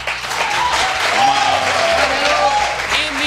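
A studio audience at a Catalan talk show applauds to cast a vote, giving a sustained round of clapping with voices talking and laughing over it.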